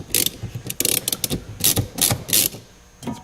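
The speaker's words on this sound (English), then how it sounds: "I've actually got a set of sockets here that fit the square end of different size taps." A socket ratchet turns threading taps while refurbishing a Ludwig Speed King drum part, giving quick, close clicking bursts in irregular strokes.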